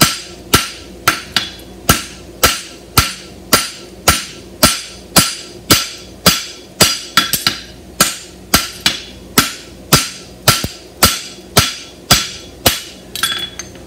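A hammer pounds a hind barshoe flat on an anvil: a long run of loud, sharp metallic blows at a steady pace of about two per second, each ringing briefly, with no talking.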